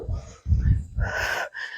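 During a home strength and cardio workout, a person breathes out hard in a few forceful, breathy exhales and wheezy gasps, close and loud, with short pauses between them.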